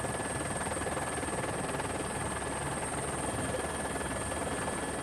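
A helicopter sits at a hangar in the Mafate area of Réunion, its rotor chopping steadily with a loud, continuous engine and turbine whine throughout, no voices heard.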